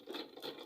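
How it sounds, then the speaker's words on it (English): A sewing machine stitches a facing round to a garment's shoulder, a brief, faint, quick rhythmic whirring of the needle with no talking. "I'll be sewing it round to this shoulder part here"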